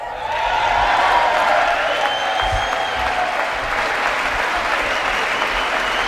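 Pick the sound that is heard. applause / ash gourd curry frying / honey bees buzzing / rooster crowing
applause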